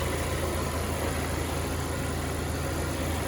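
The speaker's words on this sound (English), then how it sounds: "super smooth running engine" A 2019 GMC Terrain Denali all-wheel-drive engine idles steadily with a smooth, low hum that holds at an even level throughout.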